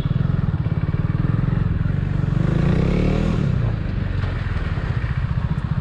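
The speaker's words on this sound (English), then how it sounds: "today I'm riding this madly tuned KTM RC390 in traffic" A tuned KTM RC 390 sport motorcycle's engine thrums loudly at close range, revving up and easing off while riding through busy street traffic.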